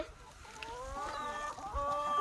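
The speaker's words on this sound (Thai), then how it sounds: "มาเก็บไข่ไก่กับเต้" Farm chickens clucking nearby during egg collection, a steady run of soft, overlapping clucks that grows slightly louder toward the end, with no talking.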